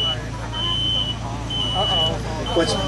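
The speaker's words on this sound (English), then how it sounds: "And now we have the smoke detector on this side." A smoke alarm sounds in long, high-pitched beeps repeating at a steady pace during a bedroom fire burn demonstration at a safety fair, partly buried under talking and rumbling background noise.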